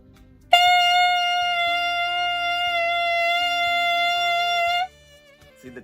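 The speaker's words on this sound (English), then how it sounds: "Now we're actually going to play on the mouthpiece." A clarinet mouthpiece is blown on its own, giving one loud, steady, reedy tone that holds for about four seconds and then stops cleanly.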